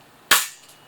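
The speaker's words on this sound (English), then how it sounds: "I'll fire around several single shots and then empty the rest of the mag on full auto" A single sharp crack from a WE Knight's Armament PDW gas blowback airsoft rifle, close and loud with a quick decaying tail, standing alone.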